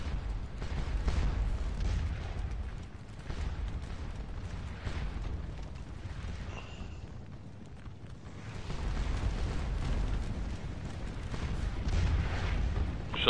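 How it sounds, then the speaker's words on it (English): Artillery cannon fire in the video game Scourge of War Waterloo, a continuous rumble of distant booms layered into a dense battle din throughout. "Got a little artillery duel going on over here."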